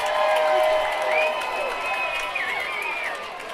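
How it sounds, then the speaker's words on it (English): A home crowd at a high school football game cheers and roars in a loud, sustained wash, with whistles and shouts rising above it and an announcer speaking over the noise. "those two plays and the penalties really got the home crowd involved here. They're getting louder and louder."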